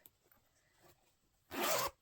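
A zipper on a handmade fabric pencil case is pulled in one quick, close rasping stroke near the end, after faint rustling and handling in an otherwise quiet room.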